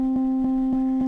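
Crossfade Loop Synth sample with only its end section looped, giving a steady sustained tone that pulses with a soft regular repeat roughly every quarter second, alone.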